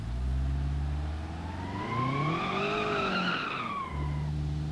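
Tires of an Ibishu 200BX skid in BeamNG.drive, a long rising and falling squeal over a steady low engine drone, loud and close, sliding for several seconds before the engine hum returns alone.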